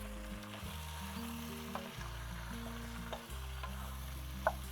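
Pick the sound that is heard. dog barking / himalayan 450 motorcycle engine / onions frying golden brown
onions frying golden brown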